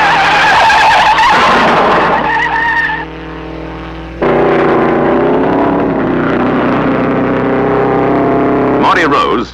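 An Italian Maserati race car roars past at speed in an old racing event while it loses a wheel, with loud engine whine, pitch shifts and tire noise, and a voice talks over the sound.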